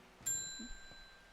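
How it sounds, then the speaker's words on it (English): A shop bell in the plant-shop game Strange Horticulture gives a single bright ding that rings and slowly fades, heard alone and fairly quiet. "ding ding goes the bell"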